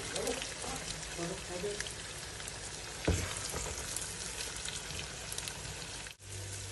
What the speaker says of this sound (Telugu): ఇప్పుడు ఈ చేపలన్నీ ఇట్లా తిప్పుకోవాలి ఒక్కొక్కటి మెల్లగా.